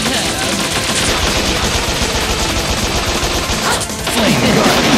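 Rapid machine gun fire from the robot shooter Bot Vice, a dense continuous rattle of loud gunfire throughout with a crash and shifting burst near the end.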